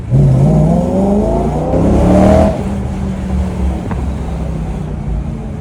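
A BMW M3 engine revs hard, its pitch climbing steadily for a couple of seconds before settling into a loud, steady drone.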